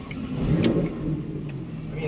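A 2019 Porsche 911 Carrera 4S pulling away, its engine a steady mid-range drone heard from inside the cabin, with faint background voices.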